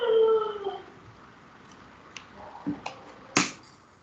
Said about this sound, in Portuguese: Vocês estão ouvindo o canto da minha cachorra.